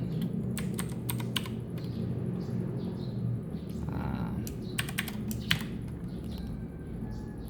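Keys clatter on a computer keyboard in irregular bursts of close clicks over a steady background hum, with no voices.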